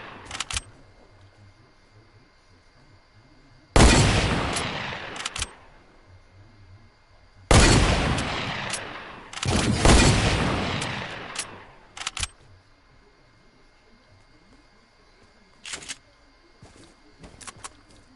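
Gunfire in a shooting video game comes in three loud sustained bursts of rapid shots, each followed by quieter stretches with a few scattered single shots.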